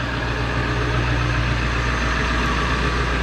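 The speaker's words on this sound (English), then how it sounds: "You can't hear me because of the truck." A truck engine idles with a steady low rumble, loud and close, with a constant droning hum and no voices.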